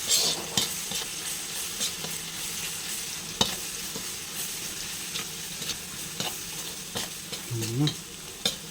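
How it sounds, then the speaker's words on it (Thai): Chopped garlic stir-fried in a pan for a Shan-style curry of bitter eggplant with pork leg, a steady close sizzle broken by repeated utensil scrapes and clinks against the pan. "เราต้องคั่วกระเทียมให้เหลืองก่อนเนาะทุกคน"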